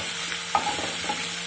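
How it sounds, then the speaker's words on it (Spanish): Onion sautéing in a frying pan gives a steady close hiss with a couple of quick spatula scrapes, no talking. "lo primero que vamos a hacer es sofreír como siempre los aliños"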